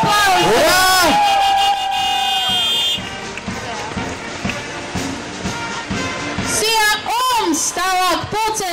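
A festival crowd in Grobiņa cheers and applauds in a broad, roaring wash, while an announcer's amplified voice calls out loudly over it at the start and end.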